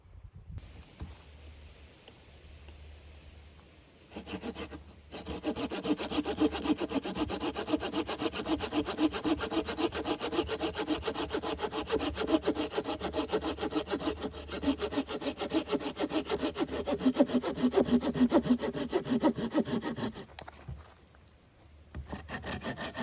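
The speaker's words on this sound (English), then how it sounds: "let's chop up some firewood to make dinner" Firewood is sawn at a campsite in a provincial park, a close, steady back-and-forth rasp of a saw through wood running for about fifteen seconds after a short pause, then stopping.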